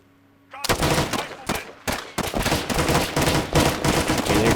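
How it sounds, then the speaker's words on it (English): Sudden, loud exchange of gunfire in the video game Arma 3, rapid automatic bursts and shots erupting after a quiet moment and continuing densely with short gaps. "they're exchanging fire right above my head"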